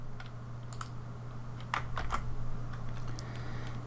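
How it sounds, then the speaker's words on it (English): Keys pressed on a computer keyboard for a Control T shortcut: a few quiet, sharp clicks close by, spaced unevenly over a faint low background hum. "we just want to hit Control T on our keyboard in order to track"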